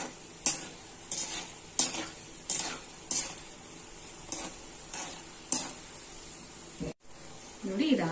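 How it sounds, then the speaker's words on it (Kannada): Vada frying on low heat, with a gentle sizzle under repeated sharp taps of a utensil against the pan at a steady rhythm, close and moderately quiet, ending with a short pause and stirring scrape. "ಸಿಮ್ಮಲ್ ಫ್ರೈ ಮಾಡಬೇಕು"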